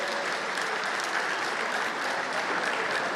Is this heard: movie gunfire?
no